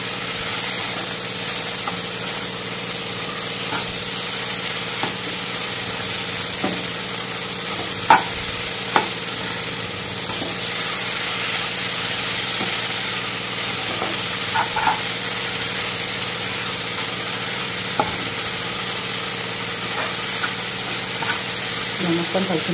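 Thotakura pappu, an amaranth dal with salt added, gets stirred in a pan: steady scraping and soft sloshing under a constant low hum, with a few sharper knocks of the spoon against the pan.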